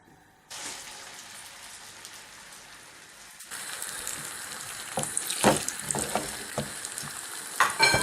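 A double-yolk egg and hedgehog mushroom omelet fries in a pan with a steady, close sizzle. The crackling swells louder partway through, with sharp pops and spatters near the end.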